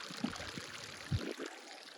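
Irrigation water runs from a canal into paddy fields at Ranganathittu near Srirangapattana, Mysore: a steady outdoor wash of flowing water with a couple of brief low gurgles and splashes.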